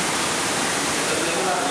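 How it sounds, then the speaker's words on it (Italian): Cold water in a spa jacuzzi on Fuerteventura bubbles and churns in a dense, steady hiss, close and continuous. "Questo è la jacuzzi e l'acqua freddissima."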